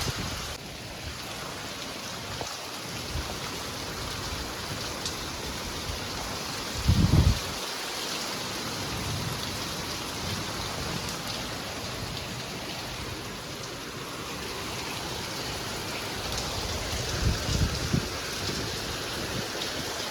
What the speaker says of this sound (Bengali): আরে সেই বৃষ্টি শুরু হয়েছে, দেখো হাওয়াও আছে বেশ।